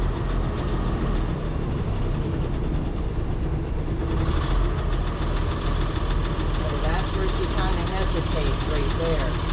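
An engine idling roughly and struggling, as if wanting to quit, with a steady low rumble throughout and slight irregular surges, heard alone without talk.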